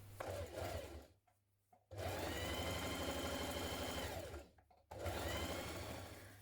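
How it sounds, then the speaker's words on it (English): A sewing machine stitches folded fabric backpack straps in two long, steady, close runs of rapid mechanical whirring, broken by a brief quiet pause and ending with a shorter burst. "folded them again like this, and then again I'm going to sew down each side"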